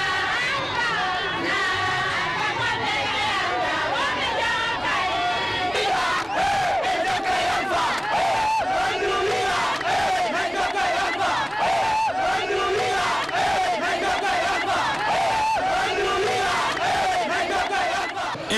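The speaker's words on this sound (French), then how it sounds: "C'est dans une ambiance de fête teintée de reconnaissance que les populations de Télimélé ont reçu le président de la République, professeur Alpha Condé" Large crowd at an outdoor public welcome for the president of the Republic in Télimélé, Guinea, shouting and cheering continuously with dense babble and rising calls, loud and close throughout.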